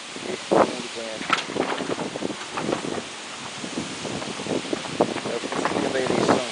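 Wind gusting through trees and bending the treetops before a rainstorm makes a steady broadband rush with rustling leaves, partly masked by someone talking throughout.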